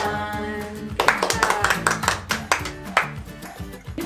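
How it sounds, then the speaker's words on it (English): Hands clap in a quick rhythm along to a children's hello song at a library storytime, the claps sitting over sung melody and a pulsing musical backing. "Everybody clap hello, clap hello, clap hello."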